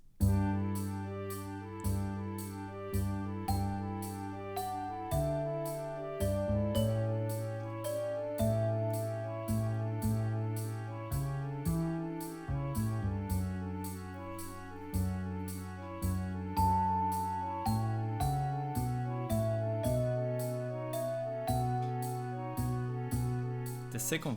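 Section B of a character theme from Final Fantasy IX plays as a steady piano-like arrangement, a melody over a regular pulsing accompaniment, continuous and alone at moderate level.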